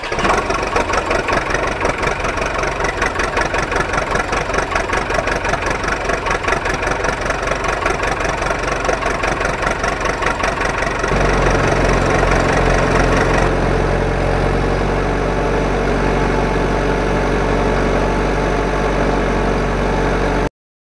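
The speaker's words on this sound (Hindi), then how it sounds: "चलो ट्रैक्टर को लेके चलते हैं।" Small toy tractor motor running steadily and close, a continuous mechanical buzz that shifts pitch partway through as the toy is moved along, with no talking.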